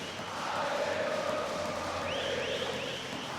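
A large esports arena crowd at the IEM Rio Major 2022 Counter-Strike event roars and chants in the distance, a swelling, sustained mass of voices heard somewhat faintly for a few seconds.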